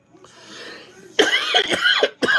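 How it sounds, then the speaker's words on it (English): A quiet breath and throat sound, then a burst of loud, harsh coughs from a lingering cold, close by, ending with a short final cough. "I still got a cough from that cold."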